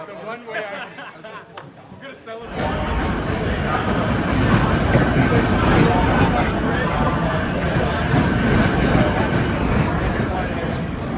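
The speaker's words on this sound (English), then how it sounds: "the festivities that were on the actual Long Island Railroad train" A Long Island Rail Road train from Jamaica runs with a loud, dense, continuous rumble that swells in abruptly after a quieter, muffled start and then holds steady, with faint crowd babble mixed in.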